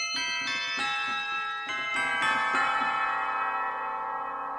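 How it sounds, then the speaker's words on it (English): Several deep, resonant tubular bell strikes from a Nord Electro 6 keyboard in quick succession, each ringing out and sustaining into a long shimmering decay, no voices. "Tubular bells."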